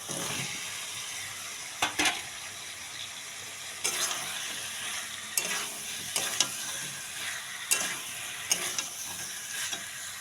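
Fried potatoes and pointed gourd tossed into cooked masala in a pan, with steady oil sizzle broken by repeated sharp scrapes and clatters of a spatula stirring, close and fairly loud.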